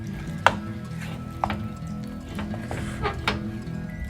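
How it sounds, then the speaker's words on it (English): Food being stirred in a frying pan in a campervan kitchen: scattered scraping knocks and clicks of a utensil against the pan, close, over a low background hum, irregular in rhythm. "the key is to just keep stirring, otherwise it sticks to the pan"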